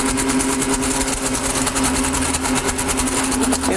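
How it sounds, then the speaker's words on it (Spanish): A kitchen appliance motor whirs steadily and loudly while eggs are blended for a Spanish tortilla, a constant close mechanical drone with a pronounced hum and no breaks or speech. "Con el motor en movimiento"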